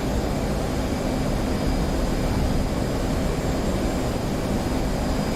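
An A-10 taking off in the DCS flight simulator game gives a steady, loud jet engine roar that holds constant throughout without any voices.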